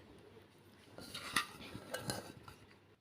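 Cut mango pieces being moved into a mixer jar in a home kitchen, with soft scraping and a few light clinks of spoon and jar against steel at close range, quiet and brief.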